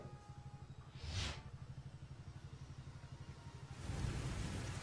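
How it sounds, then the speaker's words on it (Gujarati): Heavy early-morning rain falls in Rajkot, Gujarat, as a faint, steady wash of hiss and patter. A brief surge comes early on, and the noise swells again toward the end. No voices are heard. "રાજકોટમાં આજે વહેલી સવારથી વરસાદ ખાબકી રહ્યો છે"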